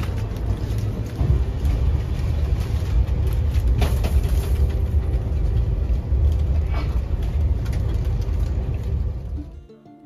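A moving train heard from inside a carriage, a loud steady rumble with faint rattles that fades out at the end, and no voices.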